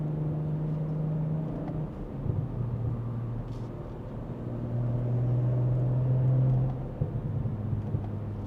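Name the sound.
quiet car exhaust with resonated mid-pipe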